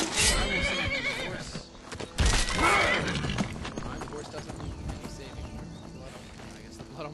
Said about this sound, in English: And what is that horse?